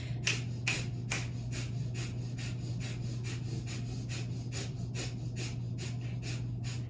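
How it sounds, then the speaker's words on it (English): Breath of fire yoga breathing: fast, forceful exhales pumped through the nose in an even, rapid rhythm of about two per second. The breaths are close and clear over a low steady hum, with no talking. "Pump the belly with me as we exhale. Try to match my pace. Super fast breath."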